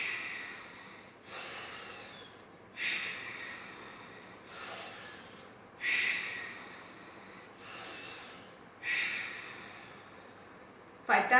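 Forceful yoga breaths alternate between hissing inhales and sharp nasal exhales in a slow, regular rhythm of about six cycles, close and breathy with no speech.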